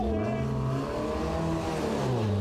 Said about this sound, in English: As Speller fires up the 340R and rejoins the circuit